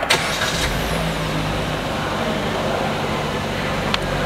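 A Suzuki Ertiga Hybrid starts from its start-stop button with no cranking: a brief click and catch, then a smooth, steady idle that hums on inside the car.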